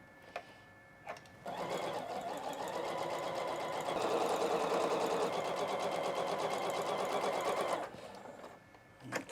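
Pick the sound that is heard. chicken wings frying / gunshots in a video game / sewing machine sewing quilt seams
sewing machine sewing quilt seams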